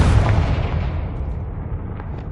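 A loud, sustained fiery blast from the Confringo spell in Hogwarts Legacy, a deep booming rumble that fills the whole moment and slowly fades, with no talk over it.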